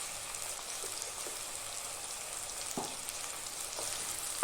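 Small onions with salt frying in a pan give a soft, continuous sizzle, broken by occasional light knocks as they are stirred, quiet and close, with no voices.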